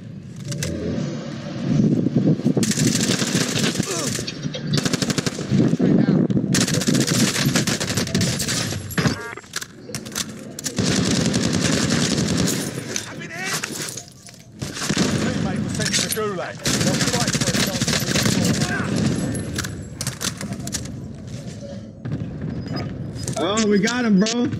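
Rapid automatic gunfire bursts from the Call of Duty: Warzone battle royale game, loud and dense across the clip, mixed with vehicle and helicopter engine noise while players talk over the action.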